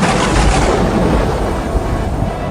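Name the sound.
thunder of a sudden storm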